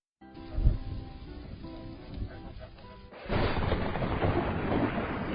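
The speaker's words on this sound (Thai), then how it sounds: "ฟ้าร้องลมแรง ฝนตกแบบนี้น้ำจะท่วมบ้านเราไหมพี่" A deep thunder rumble rolls low at first, then a loud, broad roar of strong wind sweeps in and holds steady to the end.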